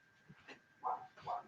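A dog barks twice in quick succession indoors, two short, fairly loud yaps after a softer whimpering sound, with no talking over it.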